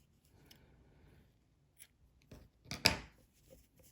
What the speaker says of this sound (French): Et maintenant, je peux couper mon fil.